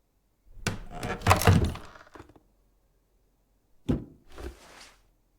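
An old apartment floorboard is pried up with a sharp crack and splintering wood, then a second shorter creak and clatter follows after a pause, close and loud with no talking.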